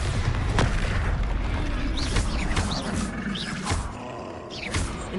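The Bombarda spell explosion in Hogwarts Legacy lands as a loud, dense boom within continuous spell-combat noise, with sharp whooshing effects layered over a low rumble.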